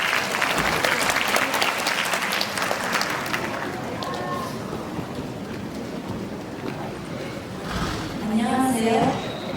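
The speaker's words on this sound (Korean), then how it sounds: "여러분 박수로 환영해 주십시오" A crowd at a Korean-language speech contest for foreign participants bursts into sustained applause to welcome the next speaker, with dense, loud clapping that holds steady before gradually thinning out.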